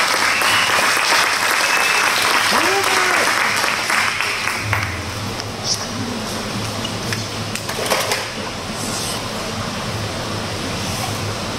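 Audience applause and cheering in a church, sustained and loud from the whole room, with a whoop early on and the crowd noise holding steady throughout.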